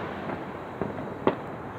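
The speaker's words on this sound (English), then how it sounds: "Well, that concludes the fireworks show for New Year's" New Year's fireworks go off in the distance, with two soft, muffled bangs standing out over a steady background rumble.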